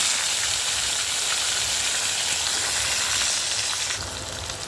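Tomato dropped into darkened oil left over from frying aubergine, a loud close steady hiss and sizzle filling the whole stretch, easing off slightly near the end, with no voices.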